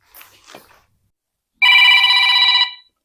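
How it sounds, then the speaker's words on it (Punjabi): A loud electronic phone ring sounds for about a second after some faint rustling, then cuts off. "ਲੈ ਡੈਡੀ ਦਾ ਫੋਨ ਆ ਗਿਆ"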